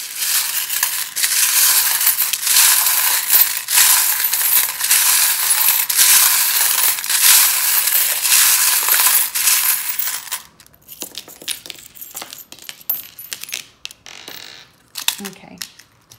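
Metal dice rattle and clatter continuously as they are rolled and dropped for about ten seconds, a dense, loud jangle, followed by a quieter stretch of scattered, sparse clicks and knocks.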